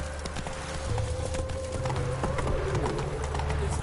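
Hooves of Roach the horse in The Witcher 3, quick steady clip-clop beats at a running pace, close and clear, with birdsong-like tones and game ambience behind them.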